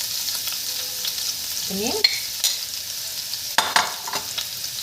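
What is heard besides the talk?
frying minced meat in a pan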